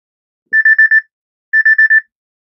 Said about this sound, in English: My alarm just went off here.